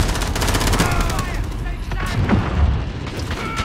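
Video game shooter gunfire crackles in dense, continuous bursts with booming impacts, loud and close throughout, while a voice talks underneath.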